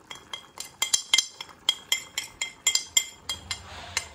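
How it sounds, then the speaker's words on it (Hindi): Spices for chicken biryani being roasted in a pot give repeated sharp metallic clinks of a spoon against the pot, about a dozen quick strikes in an uneven stirring rhythm, close and clear. "अब इसमें थोड़े जो ये मसाले हमने डाले हैं हम इसको थोड़ा भून लेंगे"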